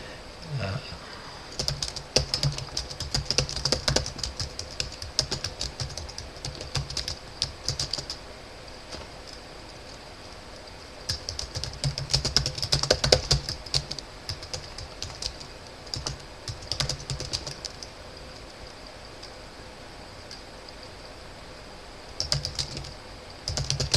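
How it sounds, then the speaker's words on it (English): Steady typing on a computer keyboard while filling in a chamber of commerce membership profile, with fast runs of close, clattering keystrokes and short lulls over a constant room hum. "Yes, I can type without talking, but it's hard."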